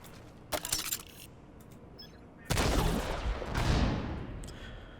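Mortar fire in the shooter game The Division 2: a short burst of sharp reports, then a louder, sustained barrage of booming blasts that rolls on for a couple of seconds.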